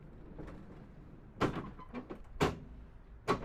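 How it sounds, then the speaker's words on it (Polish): A service drawer in a Dodge RAM 1500 pickup bed build slides out, sounding as a low rumbling glide broken by several sharp clunks as it catches in its locking positions. "Szuflada serwisowa, blokowana w trzech pozycjach."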